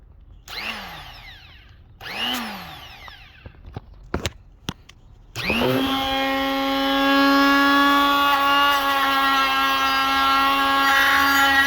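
Hercules die grinder from Harbor Freight, a few short taps and clicks first, then the motor starts and spins up to a loud, steady high-pitched whine with a strong tonal hum that holds to the end.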